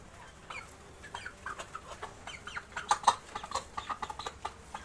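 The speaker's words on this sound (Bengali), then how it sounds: "এটা সবচেয়ে বড় মুরগি।" A hen clucks repeatedly in short, uneven bursts, growing busier and louder midway, with light rustling around it.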